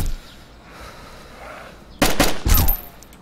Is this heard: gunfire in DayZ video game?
yes